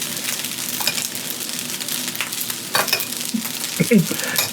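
Beef fried rice made from leftover cooked beef and rice is stirred and reheated in a pan, giving a steady close sizzle with scraping and tossing clatter throughout.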